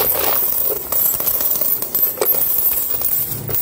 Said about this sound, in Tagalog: Ito na po yung laman ng piggy bank ni Aya. Ikaw magbuhos dito